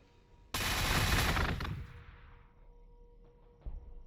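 A single loud burst of splinter rifle fire in Warhammer 40,000: Gladius, a dense crackling volley of about a second that fades into a tail, followed later by a brief softer hit.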